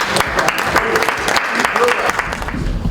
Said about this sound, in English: Please, can you clap for me now?